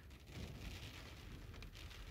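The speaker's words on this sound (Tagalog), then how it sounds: "Umulan ulit, umulan ulit." Steady rain falls in Riyadh right after a sandstorm, a dense, even wash of droplets hissing on surfaces, close and constant for the whole stretch with no voices.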